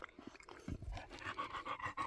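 A dog pants in the hot weather beside a converted camper van, quick close breaths in an uneven rhythm, with a few faint whimpering sounds mixed in.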